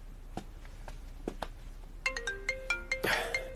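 A telephone ringtone plays a bright, repeating electronic melody of short tones near the end, after a few faint clicks and knocks in a quiet room.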